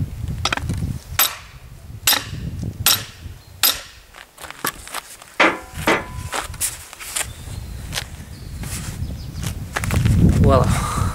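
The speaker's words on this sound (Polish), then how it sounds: "Do pewności dobiję kilka razy lekko młotkiem." Light hammer taps on the steel head of a self-splitting axe being hung on its wedged handle: an irregular run of sharp, close knocks with short pauses between them.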